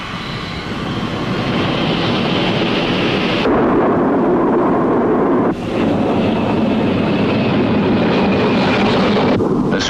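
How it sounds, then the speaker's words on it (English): Jet roar from a supersonic McDonnell RF-101 Voodoo reconnaissance aircraft, a loud, sustained rushing rumble broken by abrupt cuts between passes, as in an old film soundtrack. "The supersonic McDonnell RF-101 Voodoo, carrying high-speed cameras and electronic gear, can fly high and low altitude missions"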